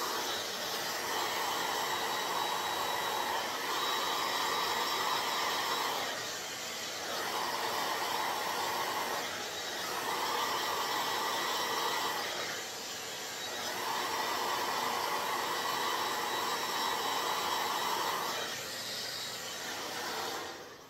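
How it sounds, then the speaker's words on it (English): A regular handheld blow dryer runs on medium heat, a steady whirring hiss that cycles in several bursts a few seconds apart as it is moved or eased off, fairly close and alone. "just a regular old blow dryer. And this is fixing to make a noise, so be ready for that because it's a blow dryer."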